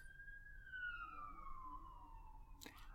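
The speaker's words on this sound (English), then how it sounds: "I've had sirens blare past." A police car siren passes outside at night, its wail sliding down in pitch as it moves away, faint and distant against background hum, with a brief noisy burst at the end.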